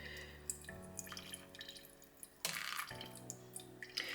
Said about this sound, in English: I can see it dripping through the bottom.